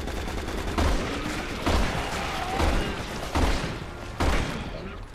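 Gunfire in Resident Evil 6, five heavy shots spaced about a second apart over a constant rumbling game background, each a loud, close burst with a short booming tail.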